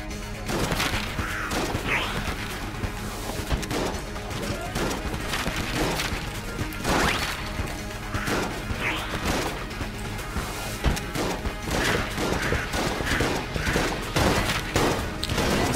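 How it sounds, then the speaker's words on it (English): Rapid automatic gunfire from the Rapid Fire Raptor Gatling Gun in Enter the Gungeon, a continuous dense rattle of shots mixed with game music and impact bursts, loud and steady throughout. "Rapid Fire Raptor Gatling Gun."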